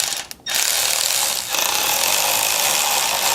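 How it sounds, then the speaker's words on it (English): An electric wrench with a half-inch extended socket tightens bolts on the front end of a 1967 Chevy Impala. After a short buzz it gives a loud, continuous rattling whir, close up, with a brief dip partway through. "I will take my electric wrench with my 1/2 inch extended socket right here"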